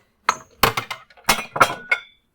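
A drinking glass at a home bar clinks sharply several times as it is picked up and set down, a series of bright close ringing taps with short decays and gaps between them.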